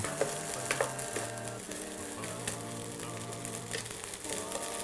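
Curry powder fried rice stir-fried over high heat hisses and sizzles constantly, with a steady tone running underneath and occasional scrapes and clinks of a utensil against the pan.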